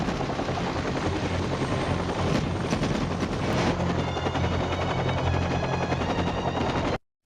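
A military helicopter, American, in a combat scene, its rotor a steady heavy thudding roar throughout, with bursts of gunfire layered over it before the sound cuts off abruptly.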